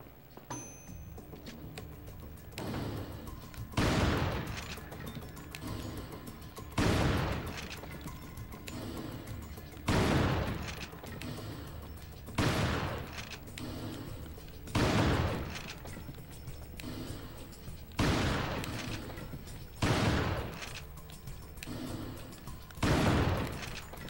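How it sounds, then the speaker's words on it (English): Shotgun fire in an elephant-hunting video game: roughly ten loud, evenly spaced blasts every two to three seconds over a low continuous game ambience, close and punchy. "Okay, maybe we try the shotgun then."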